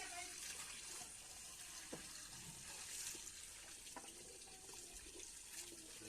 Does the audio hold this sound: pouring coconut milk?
yes